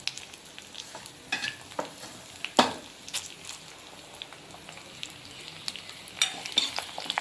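Dried red chilies fry in oil for a tamarind-leaf kadaiyal, giving a soft, faint sizzle broken by scattered scraping stirs and clicks of a spoon against the pan.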